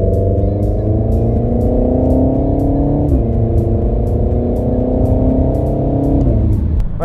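A Renault Megane 4 RS in race mode accelerates hard from inside the cabin, the engine note climbing through the revs with two quick upshifts and a brief drop in pitch at each change.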